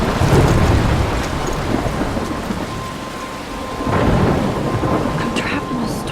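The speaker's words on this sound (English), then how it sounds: "I'm trapped in a storm?" A thunderstorm in the video game Life is Strange: heavy, steady rain pours throughout with deep rumbling thunder swelling at the start and again near the end, loud and continuous with no voices.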